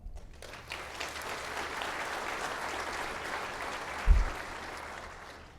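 A keynote audience breaks into applause, a dense, even wash of many hands clapping that holds steady for several seconds with one sharp low thump near the end before fading, with no voices over it.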